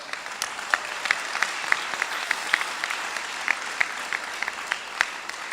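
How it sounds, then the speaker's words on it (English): An audience at a celebration of life memorial ceremony claps, a sustained, moderately loud round of applause with individual sharp claps standing out in a loose rhythm throughout. "Clap it up for that."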